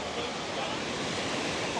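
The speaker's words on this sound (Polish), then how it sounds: "a jak widzicie jakie jest morze niespokojne." Rough, restless sea surf rolls in a steady, dense roar, close and loud like windy breaking waves, with no pauses and no distinct voices.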